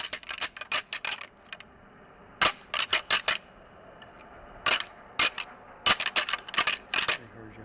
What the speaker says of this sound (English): Frank grabs the rattling antlers and he tries to bang them together to see if he can bring this buck in.